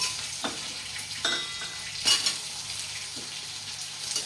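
Onion, garlic, drumstick pieces and vegetables are sautéed in a pan for Tamil vathakuzhambu. A soft, steady frying sizzle runs under a few scattered spoon scrapes and stirs, fairly quiet and close, with no voices.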